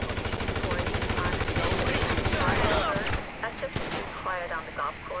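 Rapid automatic gunfire from the video game Grand Theft Auto 5 rattles loudly for about three seconds in dense bursts, then gives way to scattered single shots and game noise with a voice shouting over the action.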